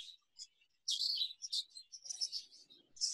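Young budgerigar hens chirping in short, high bursts, with bright scattered tweets and calls overlapping in a quick irregular rhythm; nearby and moderately loud, with no talking.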